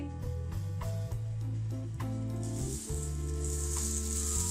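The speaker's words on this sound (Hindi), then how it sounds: "दूसरी साइड से भी इसको 2 से 3 मिनट के लिए लो फ्लेम पे फ्राई करेंगे" Potato bread slices frying in a pan over a low flame give a soft, steady sizzle that grows brighter partway through, beneath continuous background music.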